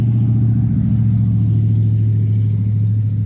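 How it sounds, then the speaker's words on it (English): Road traffic goes by close to a home garden, including a passing truck, as a loud, steady low engine rumble with a strong hum that holds through the whole stretch without pause. "Sorry about the traffic. I live near the road"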